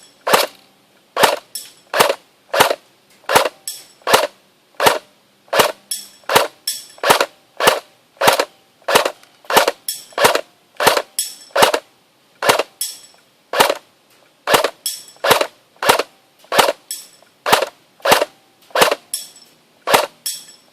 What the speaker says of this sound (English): so I'm going to shoot at the pole